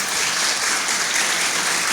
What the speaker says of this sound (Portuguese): Por favor, de pé, para vocês receberem uma bela salva de palmas.